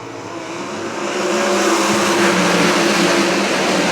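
Sprint cars race at Williams Grove Speedway, a loud roar of engines that swells as the cars pass and then holds as a dense, distant-to-mid-range drone across the track.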